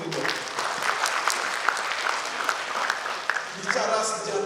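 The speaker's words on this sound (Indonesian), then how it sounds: "Tepuk tangan untuk Inkindo." Audience applause at an Indonesian consultants' association (INKINDO Lampung) forum, a steady, dense wash of clapping from a crowd lasting throughout, with a voice speaking faintly near the end.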